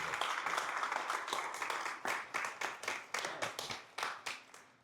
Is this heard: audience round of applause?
yes